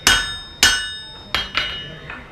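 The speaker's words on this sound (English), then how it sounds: "So you're holding the blade flat on the anvil and angling the hammer." A hammer strikes a knife blade held flat on an anvil to forge the bevel, four ringing metallic blows with a pause after the second, loud and close, each leaving a brief bright ring.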